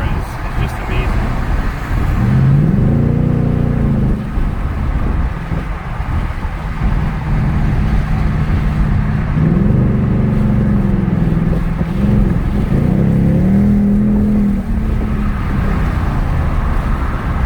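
A Ford Mustang GT drives on a road with light traffic, its engine a loud, steady drone that swells in rising pitch sweeps as it accelerates, with road and wind rumble throughout.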